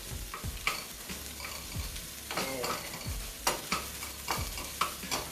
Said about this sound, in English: I'm just kind of give that a good old stirring up there